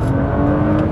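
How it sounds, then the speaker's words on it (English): A naturally aspirated BMW 130i or VW Golf GTI engine revving hard, a loud sustained mechanical roar with a rising tone, close by and with no voices. "It's just a quick tap, bam, the revs just come straight up."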